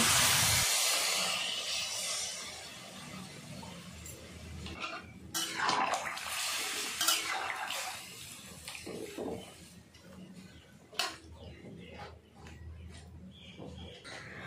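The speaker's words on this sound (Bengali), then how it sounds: "এবার আমি দিয়ে দেব জল" Water pours into a pan of mango chutney on the stove, a broad, hissing splash that is loudest at first and then tapers into quieter bubbling and kitchen noise.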